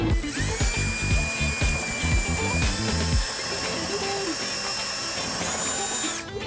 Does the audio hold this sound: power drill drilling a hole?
yes